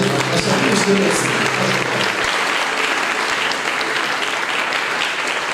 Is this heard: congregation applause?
yes